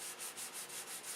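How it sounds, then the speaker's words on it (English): A wooden model aircraft wing is hand-sanded at the wing fillets and joints, about seven steady, rhythmic back-and-forth rasping strokes, quiet and close, with no talking. "I gotta keep sanding because there's some spots here that are in definite need"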